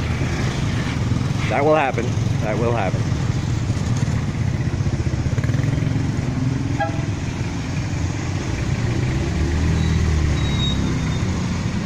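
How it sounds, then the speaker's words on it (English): Town road traffic of cars and motorcycles near a busy tent makes a continuous close engine rumble, with vehicles passing. Someone speaks briefly early on. "And of course, traffic congestion because of the tent."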